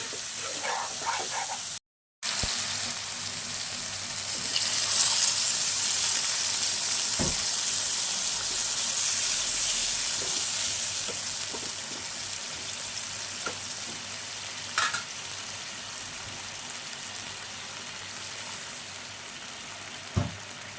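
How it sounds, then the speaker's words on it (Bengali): Pointed gourd frying in a pan with spice mix, a steady sizzling hiss with occasional sharp clicks of stirring and a brief gap early on; no talking. "এর মধ্যে এবার আমি পটলগুলোকে দিয়ে দেবো। পটলটা দিয়ে একটু নাড়াচাড়া করে আমি সামান্য জল দিয়ে চাপা দিয়ে দেবো।"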